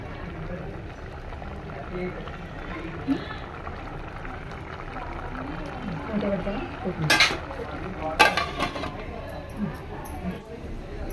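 Talking over a kitchen background, then a few sharp metallic pounding knocks cluster midway as garlic is crushed in a mortar for tempering.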